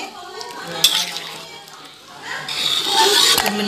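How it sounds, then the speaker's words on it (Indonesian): Pot of Indonesian tempe and tofu vegetable stew in yellow spice broth with chili, bubbling at a boil with steady simmering hiss, a couple of sharp clinks of a utensil against the pot, close by. "Ya, ini udah mendidih."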